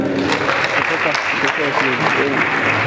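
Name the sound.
audience applause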